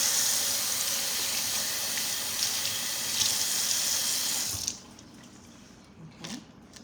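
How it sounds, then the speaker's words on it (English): Cilantro being rinsed under a kitchen sink tap, with steady loud running water that stops abruptly partway through, leaving a few faint drips and soft handling sounds. "I'm going to rinse these."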